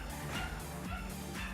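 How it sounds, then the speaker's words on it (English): A dog barks and yips indoors in a short burst of two or three sharp woofs with a slight whimper, fairly close and alone. "Pardon my dog, someone just came home."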